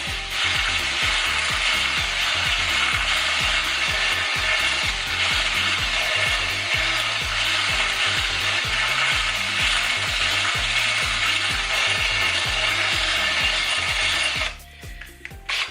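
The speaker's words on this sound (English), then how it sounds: "it's going to remove the aluminium. So we're just going to go through it gently. Just use it as a reamer." A toothed metal Lambretta clutch part is turned by hand as a reamer through aluminium, giving a close, sustained grinding ratchet-like rasp of rapid metallic clicks that runs steadily before stopping near the end.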